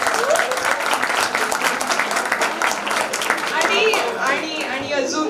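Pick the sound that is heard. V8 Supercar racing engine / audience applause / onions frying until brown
audience applause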